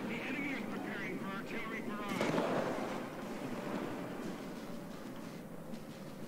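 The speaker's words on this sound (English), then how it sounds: "Oh, artillery fire. That is a serious threat." Artillery fire in War Thunder, a broad booming burst rising around the middle over steady engine rumble, with someone talking through much of it.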